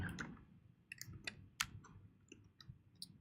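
Quiet, irregular clicking of fingers typing on a computer keyboard, with scattered sharp key taps in an uneven rhythm and no voices.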